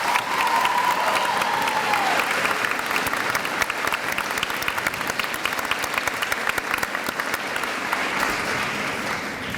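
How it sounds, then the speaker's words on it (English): Audience at a Spark Academy 8th-grade promotion ceremony claps for a graduate, steady dense applause with a few scattered cheers, fading slightly toward the end. "let's give Catherine another round of applause"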